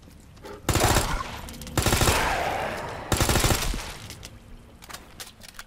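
Three loud bursts of rapid automatic gunfire in Resident Evil 2, each ringing out and decaying, separated by short pauses with faint clicks between.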